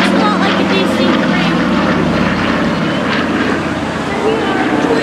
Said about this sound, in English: Now this might be the B-17. Also, it looks kind of like the DC-3. Coming by right now.